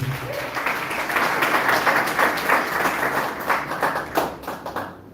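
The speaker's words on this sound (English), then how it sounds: "Can you give them a big round of applause?" A crowd applauds steadily, dense clapping that swells and then thins out toward the end.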